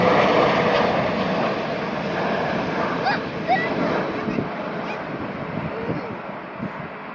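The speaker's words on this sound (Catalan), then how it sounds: "Per aquí ve un Boeing de Korean Air." A Korean Air Boeing airliner passes at Narita airport with a broad, loud jet roar that slowly fades while it moves off. Faint voices are heard under the engine noise.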